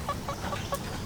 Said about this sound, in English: cockerels, so they're young males. Just a few are learning to crow.